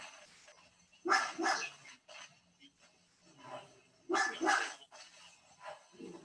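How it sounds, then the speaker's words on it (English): Dogs bark in two short bursts of several yaps each, fairly close, separated by a quiet pause with faint whimpering. "What are the dogs barking at?"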